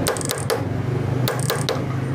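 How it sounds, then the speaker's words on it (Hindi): The jammed mixture screw on a Honda CD70 carburettor gives off a few short, sharp squeaks and ratchety creaks as it is turned, close and loud over a steady low hum. "देखें आवाज़ें निकाल रहा है"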